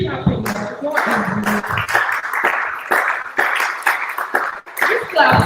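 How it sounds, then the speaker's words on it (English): An audience at an International Women's Day event in Owerri claps in a dense burst of steady applause, with a voice speaking over it. "Please keep clapping."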